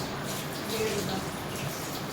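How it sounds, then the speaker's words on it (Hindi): Water running into a washing machine at home, a steady broadband rushing and splashing that stays even and moderately loud, close by. "मशीन में पानी भी लगा दिया है"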